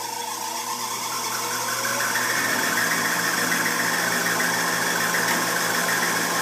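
A Tempstar furnace with a faulty Honeywell smart valve runs with a loud, steady mechanical hum and rumble that swells slightly after a couple of seconds, with no voices over it.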